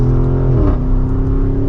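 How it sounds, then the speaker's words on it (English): A 2023 Porsche Cayenne Turbo exhaust revs in Sport Plus mode, loud and close, with the engine tone climbing and then settling into a steady drone. "you still get that really nice exhaust sound too"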